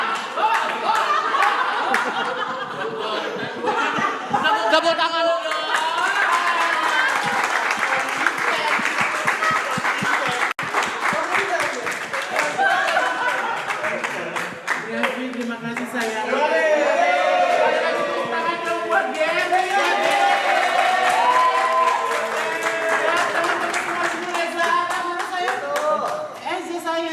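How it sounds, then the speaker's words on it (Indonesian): An audience clapping at a live birthday podcast event, sustained applause rolling on throughout with scattered laughter and voices talking in the crowd. "Tepuk tangan dulu."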